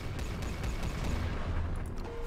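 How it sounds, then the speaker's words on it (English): EMP cannons fire in the space strategy game Final Theory, a rapid, loud volley of overlapping booms and crackling shots over a deep continuous rumble, lasting a couple of seconds. "EMP cannons"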